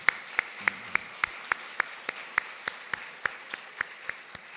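A church congregation gives a sparse, slow round of clapping, single sharp claps spaced evenly for a few seconds, fairly quiet and without talk.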